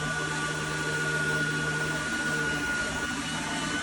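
A 1986 Oreck XL 100C upright vacuum cleaner runs steadily and fairly quietly, a constant motor whine with a soft airy hiss and no voices.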